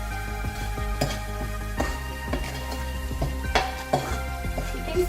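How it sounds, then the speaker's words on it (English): Ginger garlic paste and spices fry in a pan for street-style pav bhaji, a steady close sizzle under a low hum, punctuated by several sharp metallic scrapes and knocks of a stirring spoon at irregular intervals. "then I'm going to stir it again"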